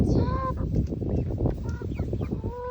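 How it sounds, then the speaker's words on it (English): Backyard chickens making a busy chorus of honking, squawking calls with overlapping harmonic cries, close and loud throughout with constant scratching and rustling underneath; no one speaks. "So these are my chickens."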